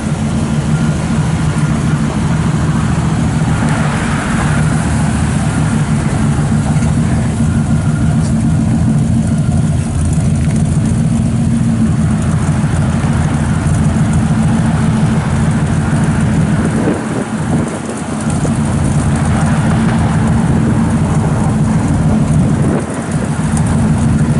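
A 1966 Chevrolet C10 shortbox pickup idles steadily through its exhaust, a deep continuous rumble that stays even and close throughout with no revving.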